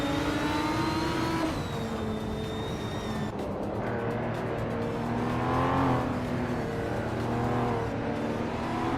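Hypercars, led by a 2012 REV CTR3, race at Yas Marina in a racing video game, with continuous loud engine drones and shifting revs from several cars, sustained and dense, with no talk.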